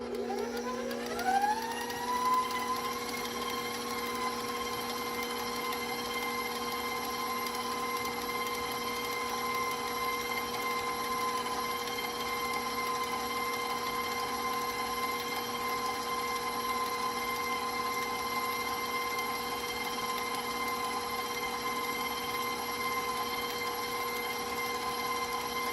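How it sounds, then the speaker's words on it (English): Electric stand mixer beating chocolate peanut butter chip cookie dough; the motor spins up in a rising whine, then holds a steady, even hum for over twenty seconds. "Now I can restart my mixer."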